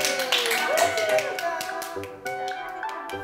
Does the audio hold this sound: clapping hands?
yes